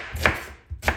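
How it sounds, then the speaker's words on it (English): A knife chops through an onion on a board, two distinct sharp cuts about half a second apart, close and clear with no talking. "I choose to cut the onion once this way, and then this, like this."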